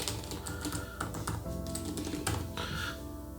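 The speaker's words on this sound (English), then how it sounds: "Pretty nice clicky sound," Fast typing on the Microsoft Surface Laptop Studio 2 keyboard, a dense, close run of crisp clicky keystrokes in quick irregular bursts, heard alone without speech.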